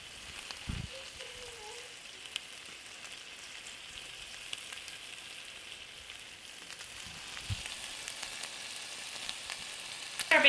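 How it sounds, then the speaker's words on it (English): Bacon strips fry in a hot skillet with a steady, fairly quiet sizzle and crackle that keeps going throughout, with a few small knocks and a louder pop at the very end, without speech. "So I'm just going to go in with about 5 pieces here, let this cook down, and then we'll add the rest in."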